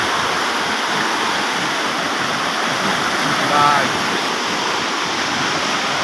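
A strong flooding river rushes past houses, its loud, steady roar of churning water filling the whole stretch with a brief swell midway and a voice speaking once over it.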